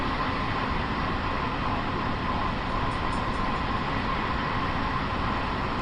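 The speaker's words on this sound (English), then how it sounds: "we're at the rear end of an eastbound LIRR train" Continuous broadband roar of an eastbound Long Island Rail Road express train heard from inside the rear car, steady and unbroken with no voices.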